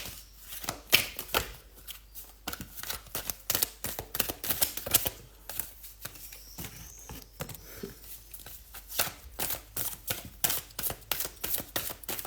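A deck of tarot cards is shuffled by hand in rapid bursts of crisp, riffling flutters and slaps, close and alone, stopping and restarting several times.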